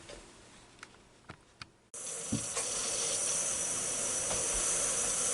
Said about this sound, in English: now there's a little steam coming out from around that, and it's jumping up down